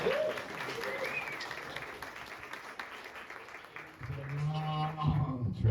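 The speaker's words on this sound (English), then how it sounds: "first, Evan, you deserve some applause" An audience at a hospitality sustainability panel applauds. The applause is a soft, steady wash of clapping that runs throughout, and voices speak over it toward the end.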